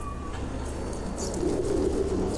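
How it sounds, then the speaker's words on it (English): Pigeons cooing in the video game Sly 2, soft throaty coos repeating close by over a low ambient bed, louder toward the end, no talk. "pigeons, stinky pigeons"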